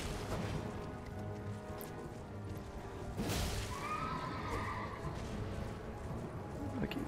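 A horse in the game Elden Ring whinnies loudly in a drawn-out, wavering call, with hoof clatter and game combat noise around it and a crashing impact in the middle.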